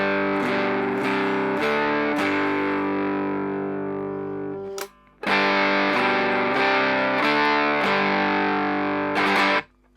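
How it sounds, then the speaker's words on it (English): An electric guitar through the dirtier, distorted channel of an amp chugs out thick, saturated chords in a steady pattern, loud and close, breaking off briefly twice. "And the dirtier of the two channels sounds like this."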